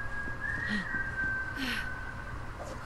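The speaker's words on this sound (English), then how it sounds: "Someone was whistling." Someone whistles in the video game Borderlands 3, a thin, steady, faint whistled tone that holds over soft in-game background sounds.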